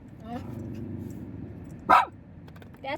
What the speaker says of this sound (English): Hey, bark and whine, Mickey. Bark and whine security's on the job.